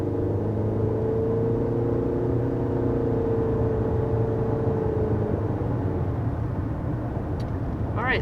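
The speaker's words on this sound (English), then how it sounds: "that was our acceleration with this 2022 CR-V" A 2022 Honda CR-V accelerating, heard from inside as a steady engine drone with a rising tone that builds and then settles into a broad, even road rumble, with no talking.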